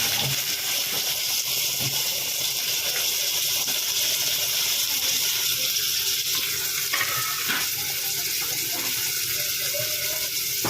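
Onions sizzle in hot oil in a pan, giving a steady, dense hiss with faint crackles throughout, close and constant with no pauses.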